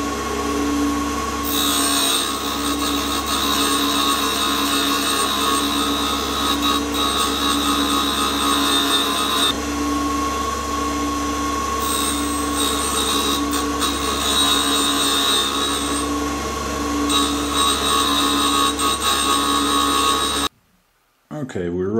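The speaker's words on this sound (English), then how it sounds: "we're just grinding three flats onto the tip, 120 degrees apart" A grinding wheel grinding three flats onto a tool tip, a continuous loud abrasive whine with steady machine hum, running unbroken before stopping abruptly near the end.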